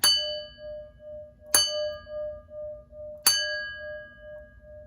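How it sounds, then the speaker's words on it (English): A bell is struck three times at an even pace, each loud ringing strike followed by a long, clear, decaying tone with bright overtones. "So I'm going to hit this bell, as we would say."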